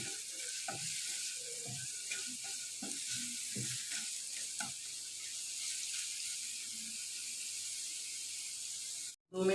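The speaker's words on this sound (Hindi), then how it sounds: "दो मिनट के लिए हमने लहसुन को थोड़ा सा भून लिए ताकि इसका कच्चापन दूर हो जाए।" Garlic sizzling in a pan over low heat, a steady soft frying hiss with faint stirring clicks throughout, close and continuous until a brief cut near the end.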